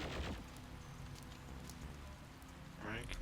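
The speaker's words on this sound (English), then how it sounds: "The rain falls in the hole." Rain falls into a hole in a Doom II WAD level, Auger Zenith, as a steady, soft hiss of rainfall with scattered faint drips throughout.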